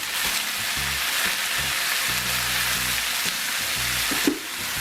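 Thinly sliced Honeycrisp apple fries in a pan with a loud, continuous hiss and crackle, with low clunks of the slices and pan heard throughout.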